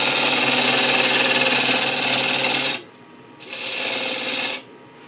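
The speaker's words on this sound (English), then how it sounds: "Got a different profile bowl gouge that I'm going to use." An open-flute bowl gouge cuts spinning wood on a Laguna lathe with a loud, steady rasping hiss that stops, then resumes for a second shorter pass, close and without talk.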